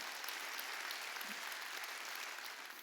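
A church congregation at a Wednesday worship service claps together in a broad, even roar that holds steady and tapers slightly, heard faintly and at a distance.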